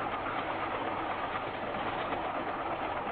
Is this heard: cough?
no